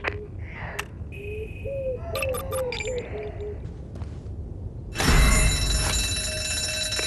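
Alarm triggered in the video game ZombiU, a loud continuous blaring tone that breaks in suddenly after scattered clicks, mechanical rattles and short beeps, filling the rest of the clip with no speech.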